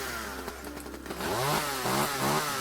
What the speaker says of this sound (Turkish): Elektrikli testere ver bakayım bir bakayım ona.